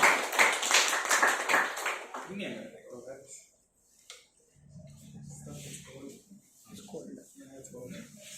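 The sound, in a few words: audience clapping to welcome a speaker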